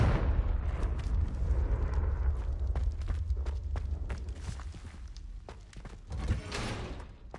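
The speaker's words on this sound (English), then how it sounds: "Confringo" Repeated Confringo blasting-curse explosions in a Harry Potter video game, a rapid series of sharp bursts and rumbling blasts over a dense, noisy background, with a final louder blast near the end.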